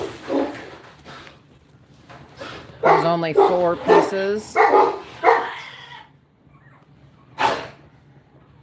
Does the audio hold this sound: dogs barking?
yes